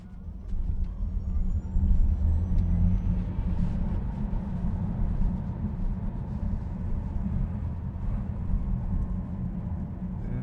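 A Tesla Model S Plaid launches in drag strip mode, heard as a loud, steady low-frequency rumble and whine of hard acceleration inside the car, sustained for about ten seconds with no talking.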